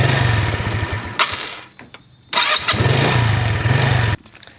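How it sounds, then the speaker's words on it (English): A Buddy 125 scooter engine cranks and catches, idles with a buzzy putter, cuts out, then fires up again and runs briefly before stopping, loud and close. "So now that I have run the bike"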